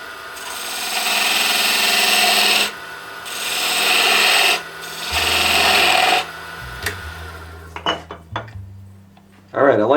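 A parting tool cuts into an unknown-wood candlestick spinning on a wood lathe, making three sustained, close scraping and rasping passes, followed by quieter clicks and taps as the cutting stops.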